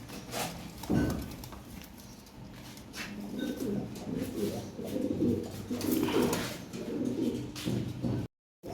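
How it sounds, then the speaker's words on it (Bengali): Several Red Ash Bar Lahore pigeons, a breeding pair among them, coo steadily and close at hand in a loft, with low rolling calls repeating through the scene until an abrupt cutoff near the end. "এইখানে একজোড়া রেড অ্যাশ বার লাহরি আছে"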